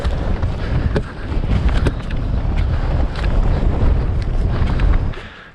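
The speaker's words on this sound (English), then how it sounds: "It's brightening up, but it's bloody windy." Strong gusty wind on Haycock, a Lake District fell, buffets the microphone in a constant loud, rumbling roar with rising and falling surges and no talking.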